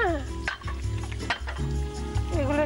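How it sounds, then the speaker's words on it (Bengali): Food fried until crisp in a pan during a Bengali television cooking show: a continuous close sizzle with stirring and the clink of utensils against the pan, with a steady tonal background throughout and no talking. "এগুলো একটু ভাজা ভাজা করে তুলে নাও"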